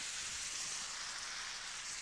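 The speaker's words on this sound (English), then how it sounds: "So you can see that we're sizzling away here." Steady, faint hissing sizzle of salmon frying in soy sauce in a pan, continuous and even with no talk.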